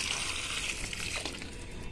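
Diluted liquid plant food, thinned with water, is poured onto chili plants in a garden bed, a soft steady splash and trickle, faint and close.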